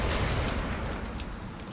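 Dense, continuous booming of cannon fire in a video game rumbles throughout, with overlapping blasts forming a steady roar.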